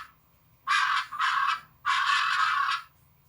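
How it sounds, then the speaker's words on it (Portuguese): Two loud, harsh, raspy squawks from a macaw, the first broken into two parts, the second longer and drawn out, close and alone. "Essa é uma arara."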